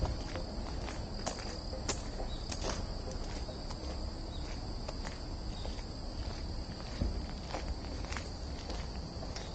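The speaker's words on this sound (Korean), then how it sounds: "주변이 너무 고요해서 내 발소리밖에 안 나요." Footsteps crunch steadily on a trail through Ahopsan Forest in Gijang, Busan, close and regular against a quiet backdrop of chirping crickets and insects.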